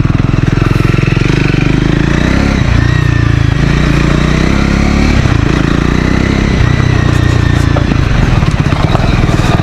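A Triumph Scrambler 400 XC motorcycle is ridden hard in third gear past construction and off-road patches, its loud, close engine drone rising and pulsing continuously with a few brief dips, no voices.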